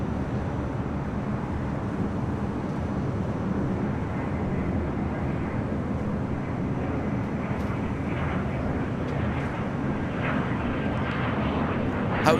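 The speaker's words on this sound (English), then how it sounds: "Next takeoff here on the north side is American Airlines Flight 2388, heading to Las Vegas on a 737-800." An American Airlines Boeing 737-800 takes off at LAX, a steady, loud jet roar that holds evenly throughout with no voices over it.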